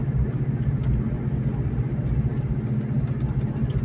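A 2004 Ford Mustang Mach 1 with 4.10 gears cruises in fourth gear at about 35 mph and 1700 RPM around town, its engine a steady, close, low rumbling drone with no talk over it.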